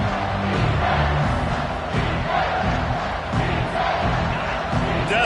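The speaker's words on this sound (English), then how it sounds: "Decibels rising as the crowd gets behind this defense on 3rd down" A football stadium crowd roars for the defense on third down, a loud sustained wall of cheering and shouting with rhythmic swells throughout.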